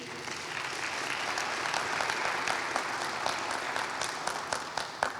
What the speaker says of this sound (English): let's give our COO, Dietrich Stanford, and county employees a round of applause for all they do